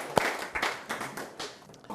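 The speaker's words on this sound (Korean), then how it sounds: "박수. 감사합니다." Participants in a meditation class applaud, a sparse, light clapping with scattered separate claps rather than a dense roar, moderately quiet and close.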